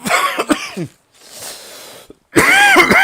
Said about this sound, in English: that really made me fucking cough